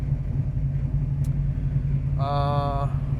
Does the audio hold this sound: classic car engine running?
yes